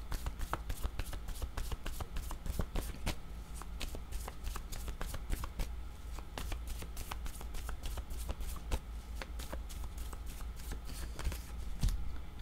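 Tarot cards are shuffled continuously and close by, a steady run of rapid riffling flicks and slaps that carries on without pause for the whole stretch, with no talk over it.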